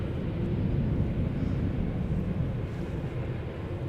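An airplane departing Schiphol Airport in the morning, heard as a steady low, broad rumble from a distance, fairly loud and unbroken, with a slight wind-like texture and no talking.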